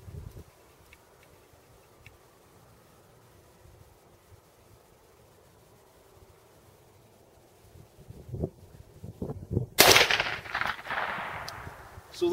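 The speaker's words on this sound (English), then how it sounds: "I'm going to use this mirror to shoot it over my shoulder" A .22 pistol fired backwards over the shoulder with a mirror at a 25 m range: a single sharp crack near the end, after quiet low rumble, followed by a brief noisy tail.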